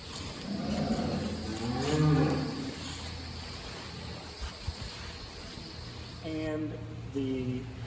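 Jersey dairy cows moo a few times in a barn, low drawn-out calls at moderate distance over a steady mechanical hum.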